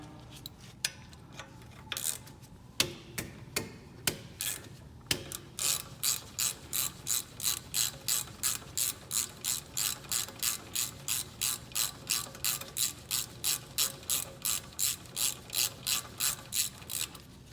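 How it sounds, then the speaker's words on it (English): A hand ratchet loosening brake caliper bolts on a 3500 truck: a few scattered clicks and clunks, then a long, steady run of close, crisp ratcheting clicks in even strokes. "Gonna grab our ratchet here, pop these bolts right on off."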